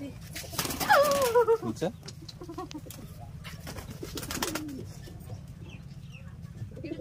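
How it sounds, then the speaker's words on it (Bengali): Pigeons cooing at a mini zoo among other birds and chickens, a few soft coos and a brief chirpy call near the start over outdoor background noise, with a voice speaking briefly. "তোমরা এখন কবুতর দেখাইলাম, অনেক রকমের কবুতর"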